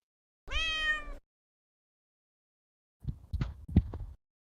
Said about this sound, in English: Do you only have digital cat sounds,